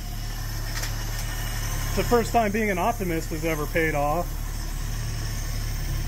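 A 1972 AMC Gremlin, saved from the crusher, idles steadily with a low engine rumble and faint hiss throughout, while someone speaks briefly over it in the middle.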